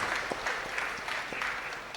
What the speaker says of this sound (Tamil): ரொம்ப பயந்து கைத்தட்டின மாதிரி, தயக்கத்தோட கைத்தட்டின மாதிரி தெரிஞ்சிச்சு